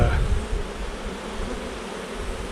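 Honeybees at a hive in autumn give a dense, steady buzzing hum, close and continuous for a few seconds with no voices.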